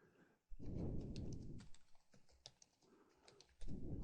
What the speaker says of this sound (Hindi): मेन्यू का नाम टाइप करें